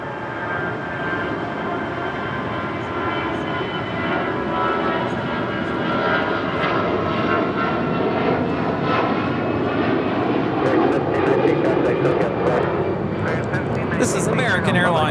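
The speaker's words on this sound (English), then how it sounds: "This is American Airlines 1719 taking off to Vancouver on an A319." An American Airlines Airbus A319 bound for Vancouver takes off from LAX, a steady broadband jet roar holding at moderate loudness throughout, with people talking over it.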